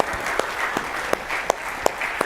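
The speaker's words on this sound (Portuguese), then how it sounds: "Toma o seu lugar aplaudindo ao Senhor." A church congregation claps along in praise, a steady wash of applause with evenly spaced louder rhythmic claps standing out at a moderate distance.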